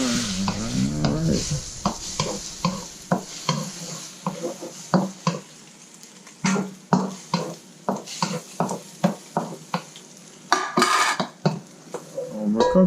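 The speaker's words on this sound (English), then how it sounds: "Add some oil. And stir fry the skin." Rotisserie chicken skin stir-fried in oil in a pan, with a steady sizzle broken by repeated sharp scrapes and clanks of a utensil against the pan in an irregular stirring rhythm.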